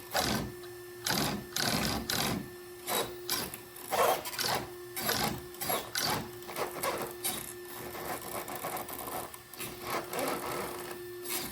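Upgraded RC servo motor working on an SCX6 crawler running on a 3S battery, close whirring buzzes in short repeated bursts of varying length, steady and mechanical, with no voices.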